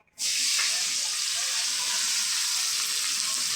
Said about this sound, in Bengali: আর রসুন কুচি একসাথে ভেজে নেবো।